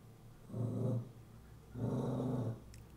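A dog gives two low, rumbling growls, each about half a second long, close and fairly quiet, separated by a short pause.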